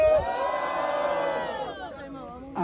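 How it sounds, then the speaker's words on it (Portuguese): A crowd at a rap battle cheers and shouts in one loud, sustained roar that swells and then fades toward the end. "Diferentemente, quem achou que a Jota está na próxima fase faz barulho"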